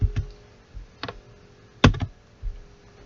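Sparse keystrokes on a computer keyboard while a value is entered in AutoCAD: a few isolated taps, then a sharp cluster of quick clicks near the middle, followed by one more tap, close and clear with no talk.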